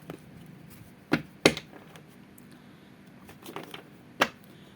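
Tarot cards are shuffled by hand, giving a few sharp riffling snaps and soft papery rustles close by, spaced irregularly with quiet gaps and no speech.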